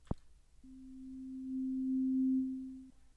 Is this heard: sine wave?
yes